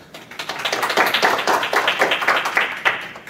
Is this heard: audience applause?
yes